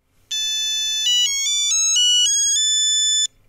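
A radio controller transmitter's replacement buzzer plays a clear, loud electronic melody of about six stepped tones, lasting roughly three seconds before stopping.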